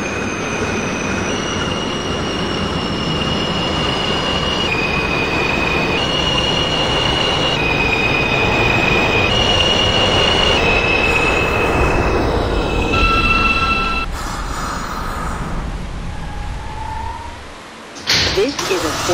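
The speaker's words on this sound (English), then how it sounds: "This is a Forest Hills 71st Avenue bound R train." An R160 Alstom subway train on a Forest Hills-bound R local in the OpenBVE simulator, with loud rumbling motion, rising and stepping motor whines, a wheel squeal, and a slowdown near the end.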